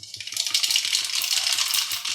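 Mustard seeds crackle and pop in hot oil in a wok, a close, busy spatter of tiny rapid clicks over a continuous sizzling hiss that swells after the first moment and holds steady.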